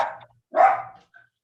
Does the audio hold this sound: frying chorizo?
no